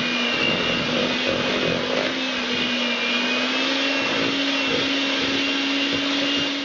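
An electric mixer beating pumpkin bread batter gives a steady, close whirring drone that holds an even pitch the whole time.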